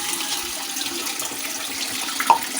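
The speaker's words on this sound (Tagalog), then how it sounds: "Tapos lagyan natin ng tubig." Water is poured into a cooking pot of fern and water spinach greens, a continuous close splashing hiss with a small clink near the end, no talk.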